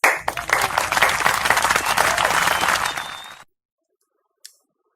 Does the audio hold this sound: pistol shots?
no